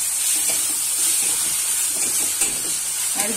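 Steady hiss and sizzle of ginger paste and garlic frying in a pan for a Kashmiri chicken dish, continuous and close with no talk.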